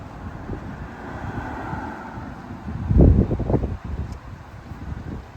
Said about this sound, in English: Now I am outside and it's a little windy